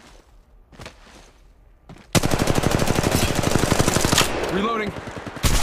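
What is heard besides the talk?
gunfire in Apex Legends Mobile video game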